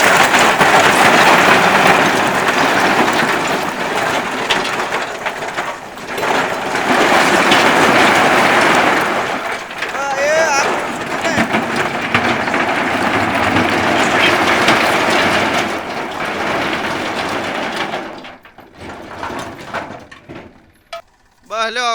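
A tractor trailer dumps its load in a loud, sustained rumbling rush of sliding, rattling material that surges and eases before dropping away near the end, with voices at times.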